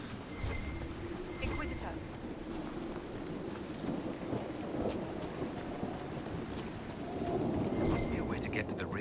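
Steady rain falls in a fantasy video game world, with low rumbles of thunder rolling underneath and scattered clopping hoofbeats, all fairly faint under a continuous patter.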